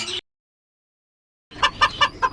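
A brief sound, then silence, followed by a short run of four rhythmic clucks from a chicken, close by.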